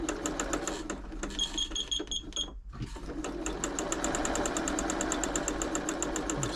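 Janome Memorycraft 3000 sewing machine running a straight stitch, a steady rapid mechanical needle clatter with a brief pause partway through, then resuming evenly and loudly up close.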